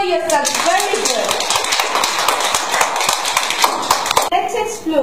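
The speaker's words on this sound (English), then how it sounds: "Clap for yourself." A classroom of children claps for themselves, the dense rapid clapping running loud and continuous, with some voices mixed in near the start and end.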